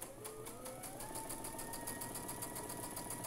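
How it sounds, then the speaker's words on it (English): A sewing machine stitches fabric along a marked line, its needle tapping in a fast, even, faint rhythm over a steady motor whir. "I am just going to go ahead and sew on my marked line"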